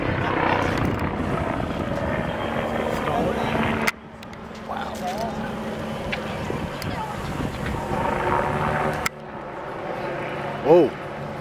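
A small, cheap Red Bull remote-controlled toy helicopter flies close by with a steady whirring buzz that wobbles slightly, while people talk over it.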